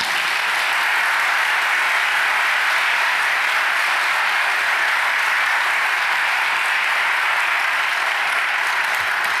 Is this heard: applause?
yes